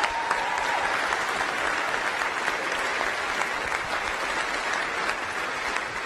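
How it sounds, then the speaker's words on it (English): Steady applause from a crowd at an event presenting the Artemis II moon mission crew, dense and continuous clapping throughout. "Please give them a round of applause."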